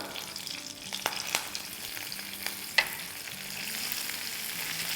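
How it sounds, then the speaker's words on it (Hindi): Curry leaves and fresh coriander frying in hot ghee in a preheated pan for dal tadka, producing a steady crackling sizzle with a few sharper pops and spoon scrapes, close and moderately loud, without speech. "अब घी में डाल देंगे ये कड़ी पत्ते जो बचा के रखे थे वो, थोड़ा हरा धनिया,"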